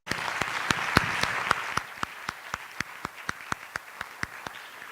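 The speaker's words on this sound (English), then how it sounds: "Shall we give Margaret another round of applause?" Applause from a crowd at a public lecture, dense at first, then thinning to a few evenly spaced claps that continue steadily to the end.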